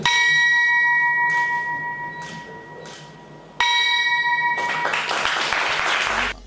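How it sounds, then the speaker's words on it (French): A bell rings to mark the market close at the BRVM regional stock exchange, with several clear, ringing strikes whose tones linger between hits, followed by a burst of applause. "Lionel Zinsou, sonne ce mardi la cloche marquant la fermeture du marché à la Bourse régionale de valeurs mobilières BRVM."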